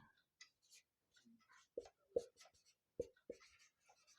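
Pen or marker writing by hand during a phrasal-verb lesson, a quiet run of scratchy strokes broken by a few sharp taps as the tip meets the surface, close and soft, with no talk over it.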